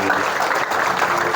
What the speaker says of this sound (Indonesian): Tepuk tangan untuk Lantaburo.